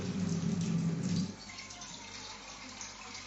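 Water is poured into a pot of khichuri, a louder rushing pour that cuts off after about a second, leaving a faint low background hiss.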